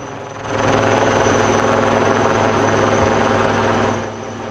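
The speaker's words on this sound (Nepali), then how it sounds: "नेपाली सेनाको हेलिकप्टरले पुष्पवृष्टि गर्यो र अतिथिलाई स्वागत गर्यो" A Nepali Army helicopter passes overhead during an Army Day ceremony, its rotor and engine producing a loud, steady thrumming roar that swells in, holds for several seconds, then eases slightly.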